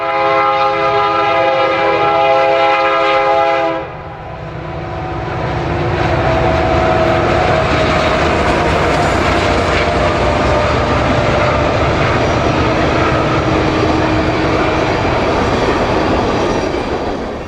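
A westbound freight train, number 9898, passes the old station at Broken Bow on a Sand Hills rail line, its loud multi-tone horn blasting for several seconds before giving way to a sustained rolling rumble of wagons close by.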